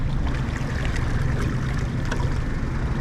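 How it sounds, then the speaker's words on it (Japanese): A fishing boat engine running abnormally out on the water gives a steady, dense rumbling drone mixed with the wash of water, continuous and fairly loud throughout, with no one talking. "なんかエンジンがおかしい。"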